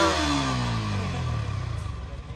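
A Yamaha R15 V4 motorcycle engine revs hard and steadily close by, a rising, buzzing drone that holds for a couple of seconds, then turns slightly uneven as the throttle eases.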